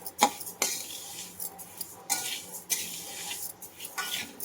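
Rice roasts in a pan over low heat while a metal spoon stirs and scrapes it, a series of sharp scraping clinks at irregular intervals, close and fairly quiet, no talking.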